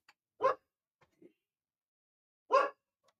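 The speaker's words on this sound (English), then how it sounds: "I'm just seeing what my damn dog's barking at." A single dog barks twice, a couple of seconds apart, sharp and fairly close, with near silence and faint small noises in between.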